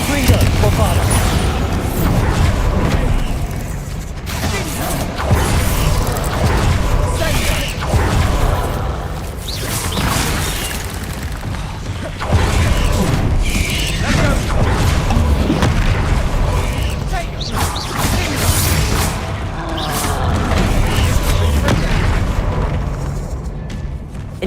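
Confringo and Bombarda spells explode in a Hogwarts Legacy battle, with repeated heavy booms and blasts over a busy, clattering combat din that continues for the whole stretch.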